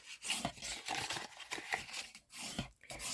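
A bone folder rubs firmly along the scored folds of a paper gift card holder, making repeated close, dry scraping strokes that swell and fade in quick succession.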